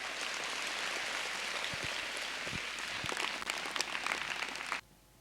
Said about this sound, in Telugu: and clap for them for the wonderful life which they have blessed us